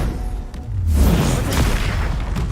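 A single Confringo spell blast in the video game Hogwarts Legacy erupts as a deep, loud rumbling boom that builds quickly and sustains with crackling debris noise for a couple of seconds.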